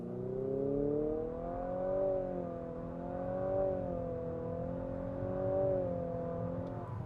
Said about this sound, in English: slamming on the throttle. Rev it up, and here we go.